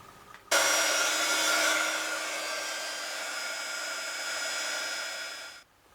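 Electric heat tool blowing steadily while it sets white embossing powder on a flower-stamped card, a close continuous whirring hiss lasting about five seconds that starts and stops abruptly.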